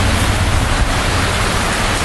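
Steady, loud rain falling outdoors, a continuous dense hiss with a low rumble and no voices, filling the whole short stretch.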